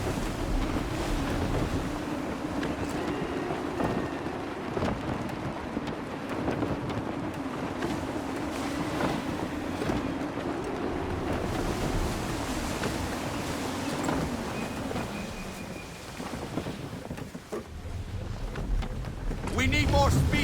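A sailing ship in the Assassin's Creed III game pushes through gusty wind and waves, a steady roar of wind and surf under a low hull drone, continuous throughout, with voices talking over it.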